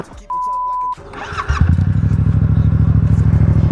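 A Yamaha FZ07 motorcycle, a first bike, fires up after a brief electronic tone, then settles into a loud, close, rough rhythmic idle with steady pulsing exhaust beats.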